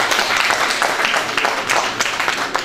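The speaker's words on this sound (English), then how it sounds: "I think he needs a clap for that" An audience at a Rotary district training event claps steadily together, a dense, continuous round of applause held at an even loudness for the whole stretch with no voices over it.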